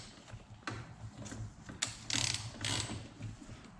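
Several ratcheting clicks come from a socket wrench turning a 17 mm bolt on top of a Yamaha YZ85 engine during teardown. The bursts are close, separated by short pauses.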